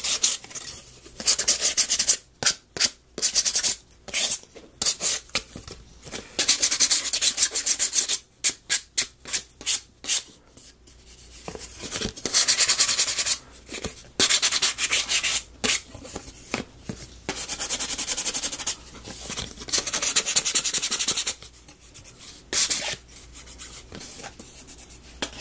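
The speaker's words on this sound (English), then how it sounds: "I'm going with the sandpaper today, I guess." Sandpaper rubs back and forth by hand on a small part of a ROKR model kit, in quick rhythmic bursts of close scratchy strokes broken by short pauses, with no talking.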